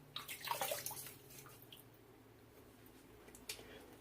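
Water splashes and trickles as a head is wetted before shaving with a Gem Micromatic Clog Pruf razor, with a burst of splashing at the start and a quieter run of drips afterward.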